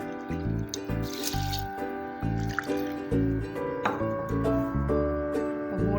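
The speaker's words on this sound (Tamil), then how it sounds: "தண்ணிக்கு பதிலாக தேங்காய் பால் விட போகிறோம்" Coconut milk for nasi lemak pours into a pot of rice in a continuous dripping, gurgling stream, close and fairly loud, its pitch wavering as the liquid splashes and fills.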